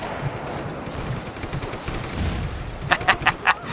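Gunfire in the open-world action game Just Cause 3: after a few seconds of low rumbling ambience, a quick burst of four sharp shots rings out near the end, close and fairly loud.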